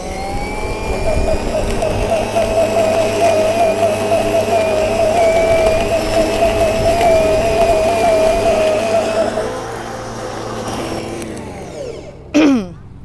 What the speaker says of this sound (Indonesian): Mari kita mulai dengan potong rumput kita ini yang pakai baterai ya